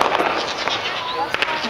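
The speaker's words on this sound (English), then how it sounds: "Now the fireworks are gonna start, you guys." Fireworks go off around a residential neighborhood, with crackling pops and whistling streaks at a moderate distance, under people talking nearby.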